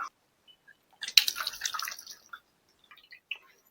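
Water drips and splashes briefly as hands are washed, a short, close burst of splashing followed by a few faint scattered drips in a quiet room.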